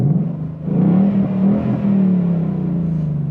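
A 2021 Ford Mustang V8 exhaust in track mode gives a deep, loud burbling drone that rises as the car pulls away and then holds a steady low rumble while cruising, close and without talk.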